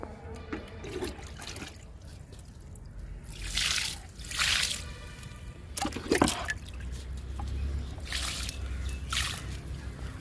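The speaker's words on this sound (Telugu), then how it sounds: "ఈ టబ్బులో కూడా ఇస్తున్నా లిక్విడ్. టమాటో మొక్కలు 4 ఉన్నాయి. ఈ 4టికి ఇచ్చేద్దాము." Liquid fertilizer is poured into a tub holding four tomato plants, giving a faint intermittent trickle and splash in several short bursts over low background rumble.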